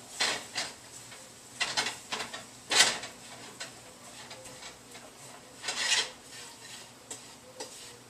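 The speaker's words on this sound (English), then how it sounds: "Mix them together." Breadcrumb stuffing for mushroom-stuffed chicken mixed in a bowl, heard as irregular bursts of scraping and stirring, close and moderate, with quiet gaps between strokes.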